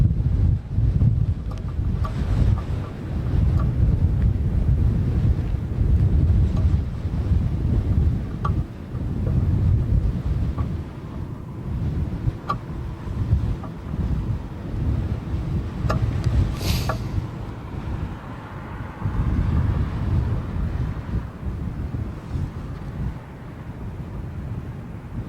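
Strong, gusty wind buffets the microphone outdoors at London Heathrow Airport, a steady loud low rumble of blustery southwesterly gusts rising and falling throughout, with no voices.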